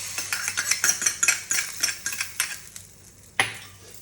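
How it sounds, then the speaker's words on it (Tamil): A tempering of mustard seeds, cumin and a dried chili is poured into rasam. It makes close, sizzling crackles with quick scraping and stirring clinks, then a sharper splash before the sound fades. "இப்போ வந்து ரசத்துக்கு வந்து தாளித்து கொட்ட போகிறேன்."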